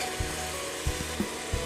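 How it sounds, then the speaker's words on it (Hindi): Ginger garlic paste sizzles steadily in a pot for mutton aloo gosht, a close, even frying hiss with a few soft stirring knocks. "अब इसमें डाल देते हैं अदरक लहसुन का पेस्ट, और इसके साथ भी हम अच्छे से भून लेंगे"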